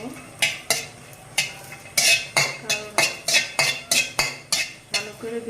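Green chilies fry in a pan with a spatula during preparation of a kalijira bhorta, with a regular run of sharp scraping and clanking strokes against the metal, close and loud.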